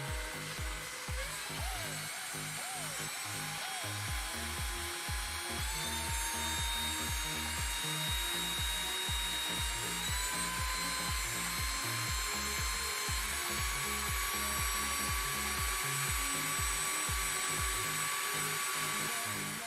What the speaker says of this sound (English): with some assistance from an electric drill, we can generate quite a few more volts